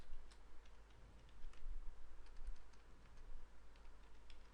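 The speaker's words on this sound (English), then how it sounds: "now I'm going to type java p" Soft, irregular key clicks from a computer keyboard as a Java command is typed, faint and close against a quiet room hum with no talking.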